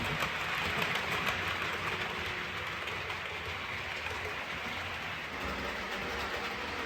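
Model railway trains circle a tail-chaser layout circuit, giving a continuous faint rolling clatter of small wheels on track, steady and even throughout with no voices.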